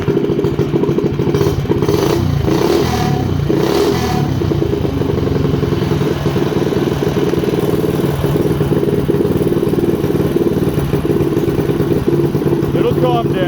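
A Honda GX160 short-block engine on a race mini bike runs steadily at close range, a loud continuous mechanical drone with clattering overtones that holds a smooth, even idle for the whole stretch.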